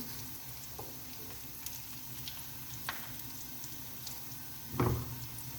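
Kebabs shallow-frying in a little oil, with a steady low sizzle running throughout, nearby but soft, and a brief clatter near the end.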